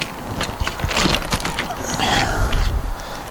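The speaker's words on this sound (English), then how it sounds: "it's also folding, and you just split it halfway along like a normal folding bike" Metal clicks and rattling mechanical clunks come as the Hitway BK6S folding e-bike frame is split halfway and folded, a close, irregular series of latch and hinge sounds.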